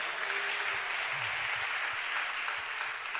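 An audience at a sermon claps steadily throughout, a dense, even wash of applause heard from a distance and fairly faint, with no voices over it.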